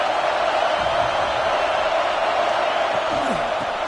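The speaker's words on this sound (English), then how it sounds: "This crowd ready to make its presence known." A football stadium crowd at an Oregon versus Tennessee game roars in a broad, constant wash of cheering, loud and sustained throughout, with a faint voice rising briefly near the end.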